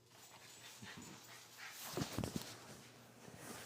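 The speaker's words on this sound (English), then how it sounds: "the lounge lizard doggy" A 15-year-old lounging dog pants and lets out soft whimpers, quiet and close, with a few brief louder breaths in the middle.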